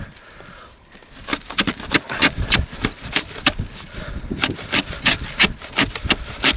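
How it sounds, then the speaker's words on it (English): A JEOTEC fixed-blade knife planes a piece of wood up close, producing a rapid series of sharp scraping strokes that start after a short lull and keep a steady, uneven rhythm. "we just see how manageable that blade is in planing"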